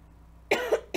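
One person gives two quick, sharp coughs close to the microphone, the first slightly longer and the second clipped, after a moment of quiet room tone.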